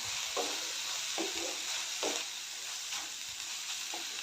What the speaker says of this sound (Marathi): बटाट्याचे काप आपण जे तळून घेतलेले आहेत तेलामध्ये फ्राय करून घेतलेले आहेत ते घालते ग्रेव्हीमध्ये चांगलं मिक्स करून घेते